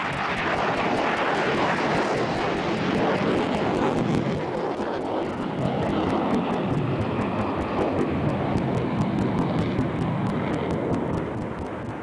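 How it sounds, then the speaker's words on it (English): A McDonnell Douglas Boeing FA-18C Hornet fighter jet flies at an air show, its engines a loud, continuous broadband roar that holds steady throughout, slightly easing near the end. "the McDonnell Douglas, now Boeing FA-18C Hornet, an extremely effective multi-mission fighter bomber"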